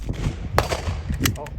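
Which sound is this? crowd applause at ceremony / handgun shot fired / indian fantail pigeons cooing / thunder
handgun shot fired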